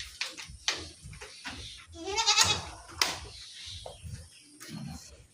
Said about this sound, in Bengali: ছাগলগুলো বাইরে ছাড়া যায়।